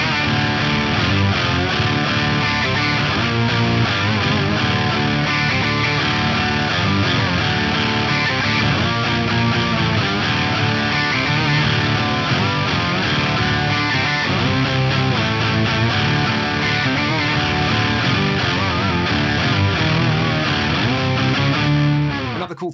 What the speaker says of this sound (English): I've added a sub octave in here, so 24 semitones down and an octave above.